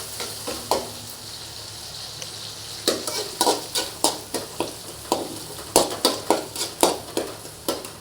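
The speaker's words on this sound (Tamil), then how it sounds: "முட்டை சாப்பாடு செய்கிறதுக்கு பார்த்தீங்கன்னா வெங்காயம் வணங்கிட்டு இருக்குது." Onion, green chili and curry leaves sauté in a pan as a spoon scrapes and stirs in a steady run of sharp strokes over a soft, continuous sizzle, close up with no voices.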